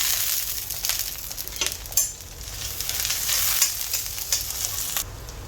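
Onions sauté in a pan for a Kerala crab roast, giving a steady broadband sizzle with scraping stirs and a few clinks of the utensil against the pan, close and continuous with no talk.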